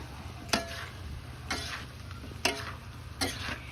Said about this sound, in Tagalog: At haluin lang ng kaunti bago natin ihain